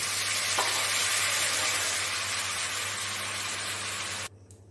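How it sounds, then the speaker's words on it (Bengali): Boiled chana dal and potato being stirred into a frying pan, giving a steady, loud, close sizzle that holds for several seconds before cutting off abruptly. "এরপর সিদ্ধ করা ডাল আর আলু আমি এর সাথে মিশিয়ে দেব।"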